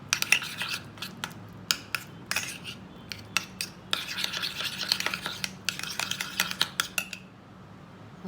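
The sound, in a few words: mixing ketchup and mustard powder sauce in a bowl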